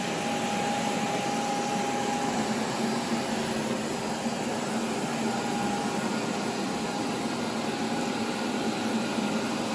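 A Bissell IconPet robot vacuum runs on carpet, giving a steady, unbroken whir and hiss with a faint tonal hum, continuous and fairly close throughout.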